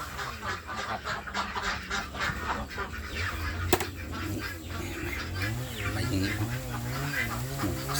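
Yi Liang ducks on a farm: a flock quacking and honking continuously at close range, with flapping wings and overlapping calls, while someone talks over them.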